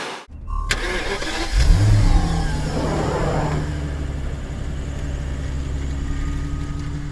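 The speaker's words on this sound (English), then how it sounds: "Seatbelts on, we're in the car, and we are ready to go" A car engine starts up with a sharp crank, then a loud, steady engine drone builds and holds as the car pulls away and accelerates, staying close and continuous with no talking.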